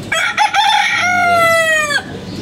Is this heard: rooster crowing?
yes